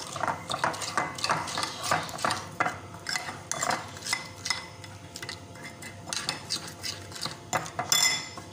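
Chicken marinade with a teaspoon of black pepper being mixed in a bowl, busy clinking and scraping of a spoon against the dish in quick irregular strokes, close and fairly loud with no talk.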